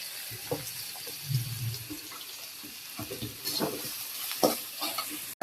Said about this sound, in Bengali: তো মাছের জন্য এই যে মশলা কষাই নিতেছি